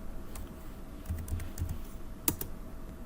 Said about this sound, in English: Let me type quit to exit the loop.